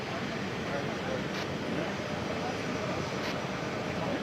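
A Boeing C-17 military transport jet at an airshow in London, Ontario gives off a steady, broad jet roar that holds at one level throughout, with people talking over it.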